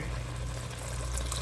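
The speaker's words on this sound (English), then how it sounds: "I'm going to go ahead and add the broth here." Broth pours steadily into a stew pot of northern beans, a continuous close liquid splash over a low hum, alone with no talk.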